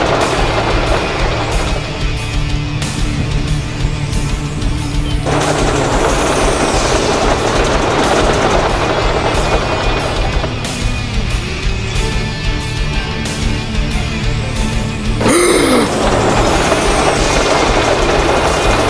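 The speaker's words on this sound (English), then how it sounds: "Flying down the main line with an express train." An express train full of passengers races down the main line, a loud continuous roar of rail and engine noise with steady rhythmic clatter, building to a sharp burst near the end.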